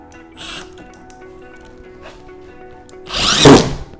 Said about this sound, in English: This is plastic, but behind it there is a metal plate, so it's going to make putting these screws in just a little bit more difficult.